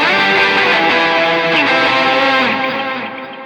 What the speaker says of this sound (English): And if I wanted to go ahead and turn on distortion and save it that way, I could.